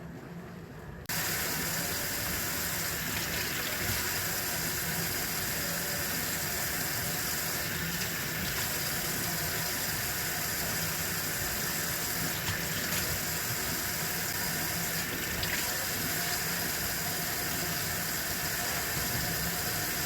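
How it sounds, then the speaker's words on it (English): Tap water runs steadily and fairly loud after a brief quiet start, splashing continuously over marinated steak held beneath it, with no speech. "So I'm going to go ahead and wash it just with water."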